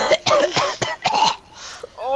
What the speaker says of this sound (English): Hey, you're coughing on my face.